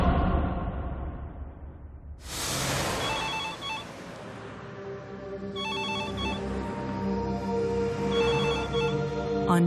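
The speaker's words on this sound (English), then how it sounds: "Michel Tolles receives a phone call from his son Fabio." A telephone rings in three evenly spaced bursts of bright, bell-like tones after a sudden loud onset, over a steady musical drone, as a late-night call comes in on a January night in 1998.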